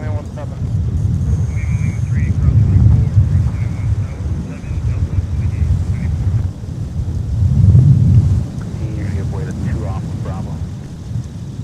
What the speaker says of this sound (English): Wind's starting to pick up a little bit here.